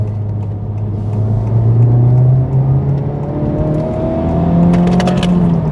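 A Honda Civic Type R FL5 hot hatch driven in Sport mode, heard from inside as a steady engine drone with a rising whine and tyre roar while it pulls.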